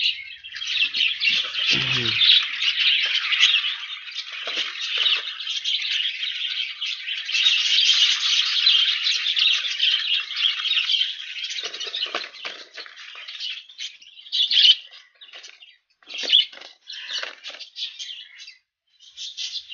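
Many budgerigars chirp and twitter continuously in a busy, dense colony chorus, close by, with occasional louder squawks and no talking.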